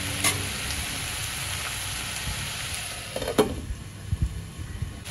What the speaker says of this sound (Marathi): आधी कांद्यावर ना बोंबील चांगली शिजू द्यायची